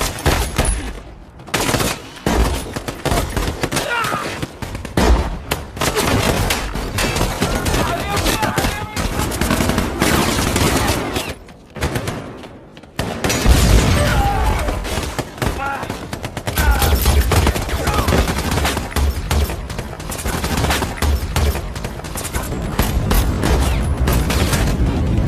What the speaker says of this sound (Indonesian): baku tembak yang sangat besar pun terjadi